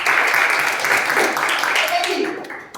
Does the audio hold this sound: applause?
yes